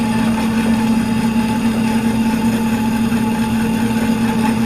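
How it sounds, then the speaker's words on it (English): A vertical bandsaw cuts through a 3/8-inch steel piece, giving a steady, loud mechanical drone with a strong low hum and constant high-frequency grinding that runs unbroken throughout, with no talking. "Got you over here at the vertical bandsaw."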